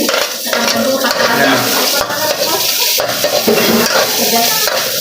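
Onions and garlic stirred in a pan for arroz valenciana, with utensil scraping and clinking against cookware, steady and close, a voice occasionally talking over it.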